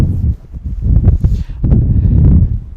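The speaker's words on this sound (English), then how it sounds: "it's very windy out, as you can see." Strong wind buffets the microphone in heavy low rumbling gusts, with rustling noise throughout and brief bursts of louder roaring.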